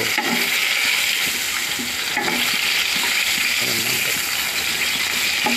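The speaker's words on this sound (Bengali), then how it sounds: "দেখুন, বেগুন ভাজাটা হয়ে গেছে, এবার তুলে নেবো" Eggplant slices fry in hot oil in a pan while being stirred, a continuous close sizzle with scraping stirring strokes at an uneven rhythm, no talking.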